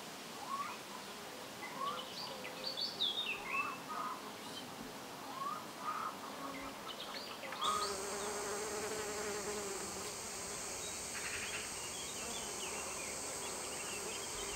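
Bees and bumblebees buzz softly around sunflower blossoms outdoors, a low, steady hum with faint bird chirps in the background.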